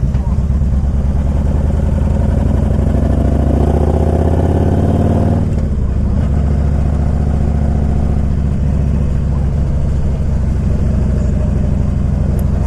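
A 2000 Harley Davidson Electra Glide Classic motorcycle engine runs loud and close, a deep rumbling idle that swells in a rev before settling back into a steady throb, with wind noise over the mic.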